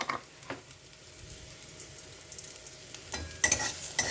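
Spices including coriander powder and a little sugar fry in a pan as they are stirred, producing a soft sizzle broken by a few sharper scraping strokes near the end, with no voices.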